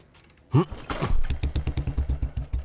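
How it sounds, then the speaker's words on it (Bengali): A motorcycle engine catches after a kick-start thump and settles into a steady, rhythmic idling putter close by. "বাইক স্টার্ট করার জন্য চাবিটা অন করতে হয়"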